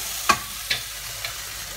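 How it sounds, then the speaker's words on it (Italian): Meat frying in a pan gives a steady sizzle, with a few sharp clicks and scrapes of stirring near the start, in a noisy kitchen. "c'è la carne che sfrigola"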